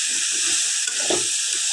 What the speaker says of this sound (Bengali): এটা আমরা কিছুক্ষণ এখন ভেজে নেব, এভাবে নাড়াচাড়া করে আমরা এটা ভেজে নেব